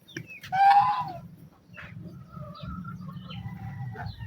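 A single chicken gives a short, strained cluck up close, followed by low rumbling background noise and faint chirps.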